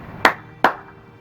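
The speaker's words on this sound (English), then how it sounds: "Much more of a manly clap." Two sharp hand claps about 0.4 seconds apart, close and loud with a short ringing decay, in an otherwise quiet room.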